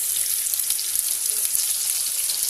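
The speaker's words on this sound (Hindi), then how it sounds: "सीख डाल देंगे और इसे अच्छे से हमें फ्राई करनी है।" Seekh kebabs frying in a pan, a continuous close, loud, bright sizzle of hot oil without pause.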